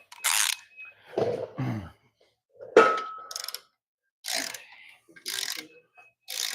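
Several short mechanical ratcheting clicks in bursts from a torque wrench tightening bolts to 14 pounds on a Toyota 1MZ engine's clutch and flywheel, separated by pauses, close by and fairly clear.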